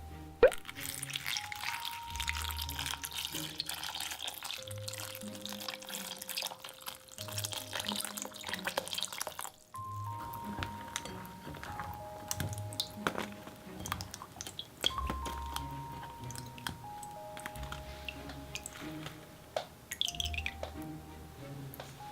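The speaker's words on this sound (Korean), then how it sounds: "가볍게 물로 헹궈주세요." Strawberries with the stems cut off are rinsed under a running faucet after a baking soda soak, with soft dripping, squishing and plopping of water and fruit, close and quiet, without talking.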